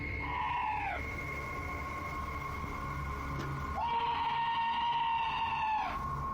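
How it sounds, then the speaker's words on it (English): A drawn-out, eerie tonal scream rings outside a trailer door at night, two long wavering cries with gliding pitch separated by a short pause, moderately loud over a low background murmur. "This scream sounds like chills made audible, happening outside the door of what appears to be a trailer."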